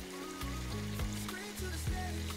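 Food fries in oil in a small pot while cooking fried rice, giving a steady crackling sizzle with soft low thumps and clatter from the kitchen underneath.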